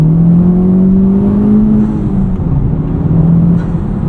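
A 2023 Honda Civic Type R FL5 fitted with a Cobb Redline carbon fiber intake pulls hard in second gear, its engine drone rising steadily and loud from inside the car with no talking.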